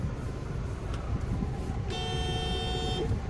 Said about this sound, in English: There's the horn there.